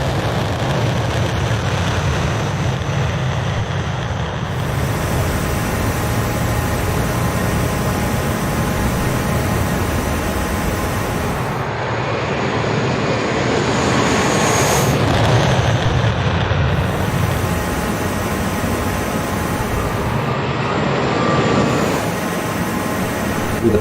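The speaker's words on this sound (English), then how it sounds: "Releasing the wheel brakes, we can start the takeoff roll keeping the aircraft straight down the runway" Hawk T1/A advanced trainer jet rolling down the runway for takeoff in Microsoft Flight Simulator, a steady loud engine roar with broadband rush that swells midway, no talking.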